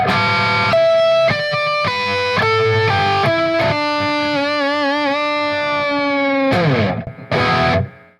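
A distorted electric guitar plays a riff through the front pickup, loud and close, with chugging palm-muted notes, sliding pitch bends and a wavering vibrato held note before the last stabs.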